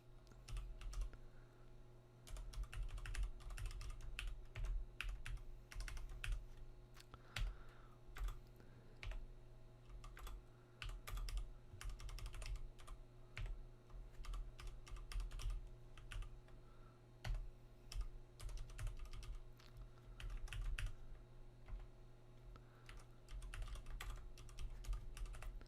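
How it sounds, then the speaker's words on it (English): Computer keyboard typing, bursts of quick key clicks with short pauses over roughly twenty-five seconds, close and fairly quiet above a steady low hum. "It's hard to type with this mic here in front of me and my keyboard out in front."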